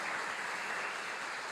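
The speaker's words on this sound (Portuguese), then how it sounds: "Você pode dar um aplauso a Ele no nome de Jesus?" A church congregation applauding during a sermon, a brief, steady, even wash of many hands, moderately distant and continuous.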